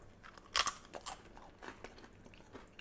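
Crispy beef nachos bitten and crunched close up, one loud crisp bite followed by a few smaller crackling chews, alone without talk.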